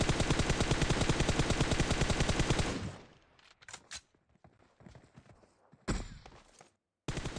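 Rapid automatic gunfire from a rifle in PUBG Mobile, a loud, dense burst of evenly spaced shots lasting nearly three seconds, followed by quieter scattered clicks, thuds and a couple of short sharp bursts.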